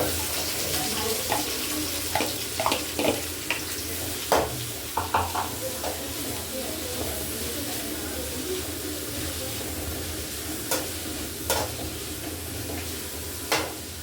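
Onion frying in coconut oil in a pan for Kerala-style liver fry, a steady close sizzle with scattered scraping stir clicks and knocks throughout.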